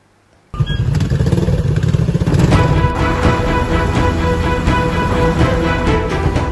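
Motorcycles fitted with loud aftermarket brong exhausts, at a police operation in Pangkep. An engine bursts into life after a brief quiet and keeps up a harsh, close, loud rumbling clatter with rising revs.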